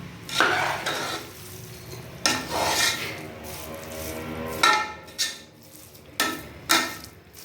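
Leftover rice stir-fried in a pan makes a continuous close sizzle, broken by repeated scraping strokes of a spatula against the pan.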